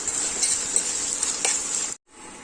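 Ginger garlic paste sizzling in hot oil for village-style sambar, a loud steady hiss with light stirring scrapes that cuts out abruptly near the end, no voices.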